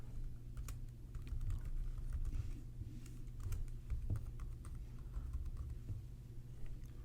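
Steady typing of a password on a computer keyboard, a continuous run of close key clicks with uneven rhythm over a low background hum and no talking.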